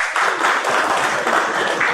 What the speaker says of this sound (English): let's all be a part of it by giving a huge round of applause.